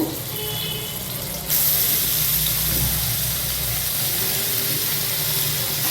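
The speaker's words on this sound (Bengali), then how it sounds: "এবার এর মধ্যে আমি পেঁয়াজ রসুন কুচিটার মধ্যে দিয়ে দেব।" Chopped onion and garlic drop into hot mustard oil in a pan, and a quiet hiss jumps into a loud, steady sizzle that holds to the end, with no talking.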